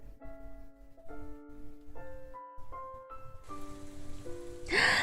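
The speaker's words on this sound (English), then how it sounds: "The rain came soon after." Rain in the video game Genso Manège, falling over a magical amusement park: soft piano-like chimes play alone before a sudden steady hiss of downpour joins and swells louder at the end.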